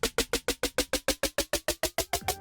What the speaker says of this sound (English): So it pans from left to right,